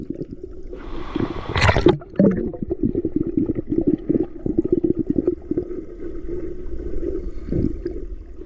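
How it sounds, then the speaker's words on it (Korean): People splash and play in the cool water of a Korean mountain valley stream running high and slightly murky, with continuous close splashing and sloshing and a couple of sharper splashes near the start. "그럼 바로 시원하게 계곡 물놀이를 즐겨볼까요?"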